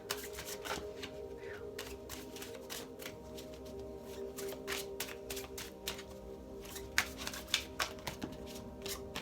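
Rider-Waite tarot cards are shuffled in a steady run of soft riffling flicks and taps, close and fairly quiet, over a constant low background hum.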